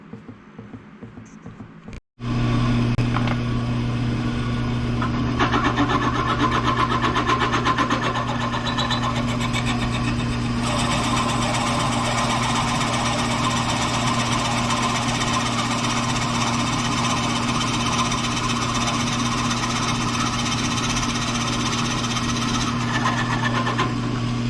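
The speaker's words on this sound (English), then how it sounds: "We can set it up in the drill press and drill it right through" A drill press runs steadily with a loud, continuous motor drone and grinding, boring a hole through an elk stag knife handle, starting abruptly after a brief quiet moment and holding near and constant throughout.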